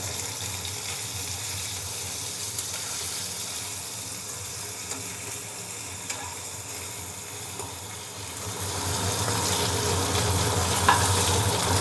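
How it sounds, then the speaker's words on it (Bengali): Boiled potatoes being stirred as they fry in a pan for aloo curry, a steady soft sizzle with faint scraping that grows a little louder and busier toward the end. "বয়েল আলুগুলো আমি দিয়ে একটু নাড়াচাড়া করে নিচ্ছি।"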